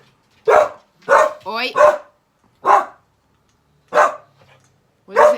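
A dog barking indoors, a series of loud close single barks spaced at irregular intervals, with a person briefly calling out between them.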